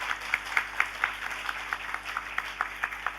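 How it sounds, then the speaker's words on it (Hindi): An audience claps for a group of women being honoured at a Women's Day event, steady brisk applause with distinct sharp hand claps standing out, moderately loud, with no voices over it. "ज़ोरदार तालियां हो जाए।"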